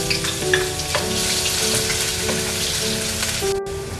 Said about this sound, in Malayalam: അതിലോട്ട് നമുക്ക് നമ്മുടെ ഇഞ്ചി, അതായത് നമ്മുടെ ജിഞ്ചർ ആഡ് ചെയ്ത് കൊടുക്കാം.